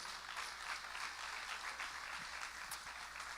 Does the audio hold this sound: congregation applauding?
yes